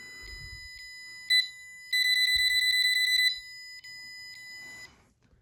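A loud electronic distance-sensor alarm from a microcontroller project gives sharp repeated beeps, speeding into a rapid continuous run as an object moves closer, before slowing and stopping, close by.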